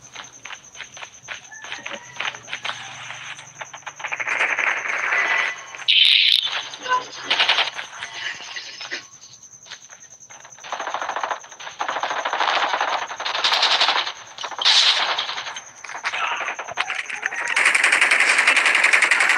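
Call of Duty gameplay with bursts of rapid machine gun fire mixed with footsteps, the shooting coming in several loud stretches separated by quieter moments.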